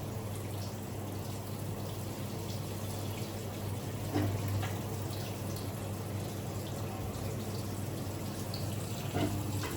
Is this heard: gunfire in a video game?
no